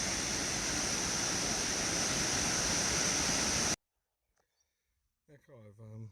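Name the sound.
raging creek water flowing, Sailors Creek Daylesford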